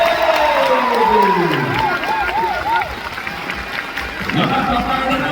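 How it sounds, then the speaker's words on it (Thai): A large crowd at a Suphanburi provincial cultural music show cheers and claps loudly, with whoops and shouts over dense applause and a voice talking through it. "ที่ขาดไม่ได้ครับเสียงปรบมือดังๆให้กับสำนักงานวัฒนธรรมจังหวัดสุพรรณบุรี"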